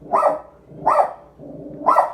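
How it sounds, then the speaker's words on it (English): A dog barks three times at an even pace, each bark loud and close, with quiet room tone between and no talking. "You hear my dog barking in the background."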